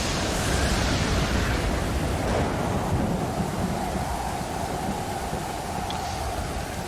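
Steady thunderstorm with heavy rain in the survival game Stranded Deep, a dense continuous roar of downpour with low rumbling thunder underneath, loud and unbroken with no voices.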